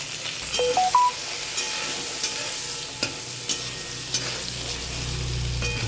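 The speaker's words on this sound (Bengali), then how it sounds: "বেগুনটা সুন্দর ভাজা ভাজা হয়ে গেছে" Eggplant pieces with turmeric and salt fry in a pan with a steady hiss, broken by a few distinct stirring scrapes and knocks; a brief rising tonal chirp sounds near the start.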